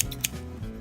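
Two or three quick, crisp snips of scissors cutting candle wicks for citronella candles, close by and brief, with a low background hum.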